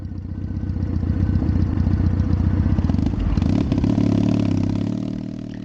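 A Triumph Bonneville motorcycle fitted with drag pipes runs loud and close, its exhaust banging and popping in a rough, continuous throb that rises slightly partway through.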